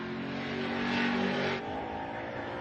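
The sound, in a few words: Commodore race car on track at Morgan Park Raceway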